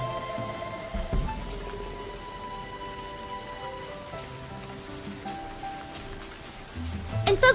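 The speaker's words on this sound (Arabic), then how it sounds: "انتظري، لا تزال تمطر." Steady rain falls in a drama scene, a continuous hiss of drops hitting surfaces with faint tonal sounds underneath and a few louder knocks near the end.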